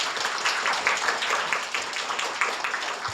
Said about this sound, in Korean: 모두에게 다시 한번 진심으로 축하의 박수를 드립니다.